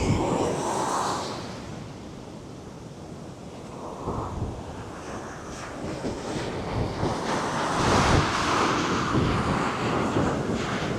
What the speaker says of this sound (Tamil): இந்த மாதிரி கடல் அலை நுரையா வரும்போது அதை பார்த்து ரசிக்கிறவர்கள் மிக அதிகம்.